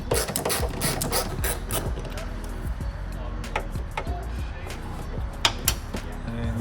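A hand ratchet works 10mm bolts loose from a 2014-2019 Toyota Corolla side mirror mount, giving steady close clicking and mechanical rattling across the span with a few sharper clinks near the end.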